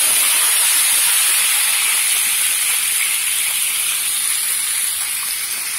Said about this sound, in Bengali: ডিমটা একটু হালকা করে ভেজে নিচ্ছি